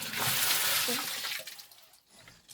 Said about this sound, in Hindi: अभी मैं थोड़ा पानी वगैरह भर रही हूँ